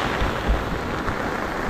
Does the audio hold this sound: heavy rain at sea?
yes